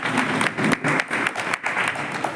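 An audience at a community ceremony for an eye-disease diagnosis camp claps together in a dense, continuous patter of applause that dips briefly a couple of times before carrying on.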